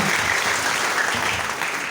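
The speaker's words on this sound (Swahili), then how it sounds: "Tupiga Mungu makofi." A church congregation at a prayer service applauds loudly and continuously, a dense close wash of clapping that fills the whole stretch without any voices.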